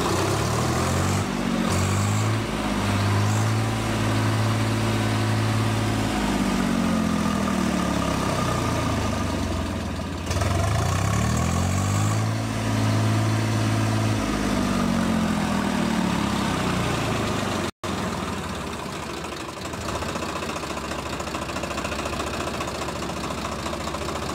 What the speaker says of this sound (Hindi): मैंने ट्रैक्टर को स्टार्ट किया अब मैं उसको फुल आरपीएम यानी फुल रेस करके भी आपको दिखाता हूँ